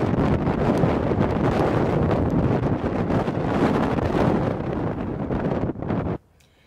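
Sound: strong wind by the sea at a winter RV campsite

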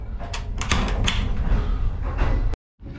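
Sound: train carriage door being closed

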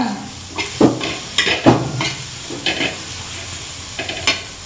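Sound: roasting spice masala in a pan for amti

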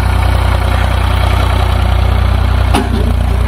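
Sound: tractor engine running

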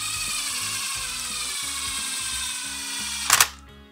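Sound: tightening engine bolts on a Polaris Predator 500 engine

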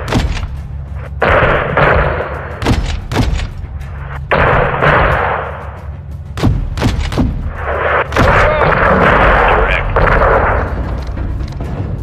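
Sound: gunfire on convoy in Modern Warfare II video game

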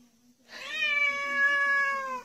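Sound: cat meowing

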